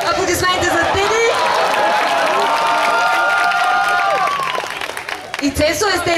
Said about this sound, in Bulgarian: Аплодисменти за Теди.